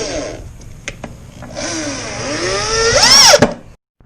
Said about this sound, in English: then finish screwing in the rest